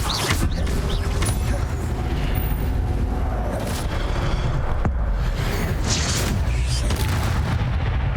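Incendio fire spell cast in Hogwarts Legacy, a loud booming burst of flame amid dense continuous combat noise, with sharp blasts and rumbling impacts throughout.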